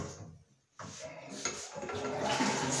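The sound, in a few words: toilet tank flushing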